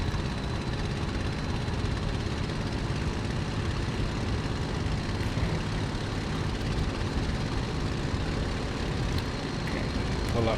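A Messerschmitt Bf 109G-6 piston engine in Microsoft Flight Simulator roars steadily at full power during a takeoff roll, a dense, continuous propeller drone with no letup.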